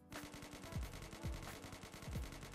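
Automatic gunfire in the shooter game Operation Scorpion comes as a fast, even burst of repeated shots with recoil held in check, fairly quiet and steady across the whole stretch, with no talk.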